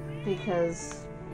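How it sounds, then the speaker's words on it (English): A cat meows once indoors, a short, clear, nearby meow with a rising and falling pitch, while a person speaks briefly over it. "That's the cat."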